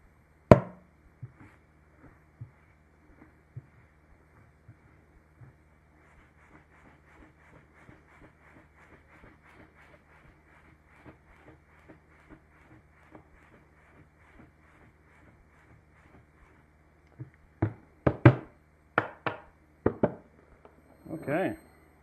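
Keto food mix shaken inside a lidded container gives a steady, quiet rhythmic rattle that runs for about sixteen seconds, followed by a few louder knocks and handling bumps near the end.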